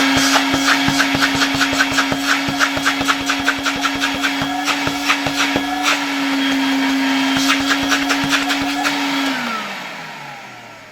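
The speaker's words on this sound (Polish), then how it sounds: "włączmy odkurzacz." A Zelmer vacuum cleaner, run on a mains supply lowered to around 200–220 V, whines with a loud steady motor tone over rapid clicking, then winds down near the end.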